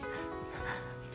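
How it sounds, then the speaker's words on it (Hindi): A pet dog barks a few times close by over steady background noise in a home setting, with a person talking around it. "किसे भौंक रहा है?"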